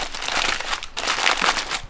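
Waxed paper packaging crinkling as it is handled and unwrapped from military-style gear for a UAZ vehicle, a close, continuous rustle with brief crackly bursts and no talk.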